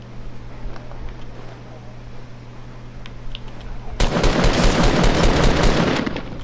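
Call of Duty gunfire: a quiet hum with sparse faint shots, then at about two-thirds through a loud dense burst of rapid automatic fire erupts and sustains to the end.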